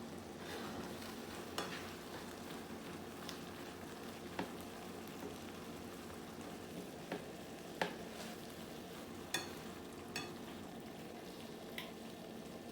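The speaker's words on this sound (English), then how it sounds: "we're just gonna let this salmon simmer, guys, on low heat for about 10 minutes" Salmon simmering gently in a pan on low heat, a quiet continuous bubbling and faint sizzle with a few soft clicks and taps of utensils now and then.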